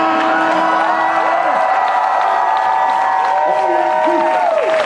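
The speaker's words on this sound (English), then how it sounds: "Hold your applause." Lively audience applause with cheering and whoops, continuous and loud, with a sustained tonal music-like layer running underneath.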